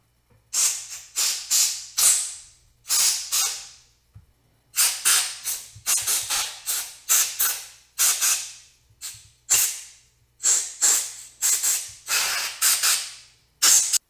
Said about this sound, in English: I do use a little bit of compressed air just to make sure that everything's free and clear